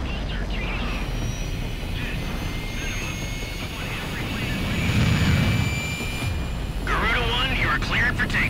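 A fighter jet in Ace Combat 6 taking off from Gracemeria, a loud sustained jet roar with a rising whine, building in strength as the aircraft lifts off, with radio voices talking over it.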